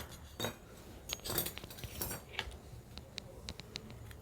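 Ceramic or glass bowl picked up and handled in a kitchen while making a semolina snack, giving scattered light clinks and knocks spread across a few seconds, fairly quiet and close, with no talking.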